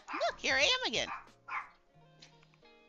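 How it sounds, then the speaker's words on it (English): An eight-year-old dog barks and yips in a rapid burst, then gives another short bark, under a person talking over game sounds. "I apologize for the dog barking because she's a booger."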